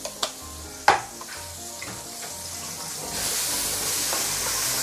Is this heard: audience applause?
no